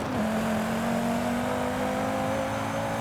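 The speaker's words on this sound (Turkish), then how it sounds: "5 silindirin sesi." A steady, droning five-cylinder Volvo C30 Polestar engine in Forza Horizon 5 hums at constant revs, smooth and continuous with a faint whine on top.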